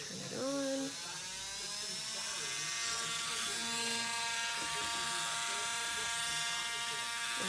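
A rotary tool fitted with a burr spins up and runs steadily while polishing a sterling silver curved rectangular earring, giving a continuous high whine with stable tones, close and fairly loud throughout.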